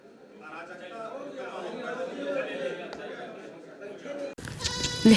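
Goat bleating outdoors, faint calls mixed with background chatter and a voice, fairly quiet and somewhat distant.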